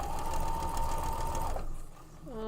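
A sewing machine stitching quilt seams, a steady fast mechanical whir with a humming tone that runs for about a second and a half, then slows and stops, close and clear with no talking.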